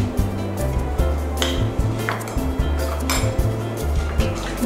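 A utensil scrapes and clinks rhythmically against a brass pan as coconut milk with salt is stirred, over steady background music.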